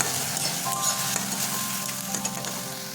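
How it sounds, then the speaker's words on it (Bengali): Onions cook in a little water in a kadai over a low flame, sizzling softly and steadily with occasional stirring scrapes, nearby and without talk, for an oil-free chicken curry. "এই জলের মধ্যে পেঁয়াজটাকে আমরা আরও প্রায় 2 থেকে 3 মিনিট ধরে পেঁয়াজটাকে লো ফ্লেমে কষিয়ে নেব"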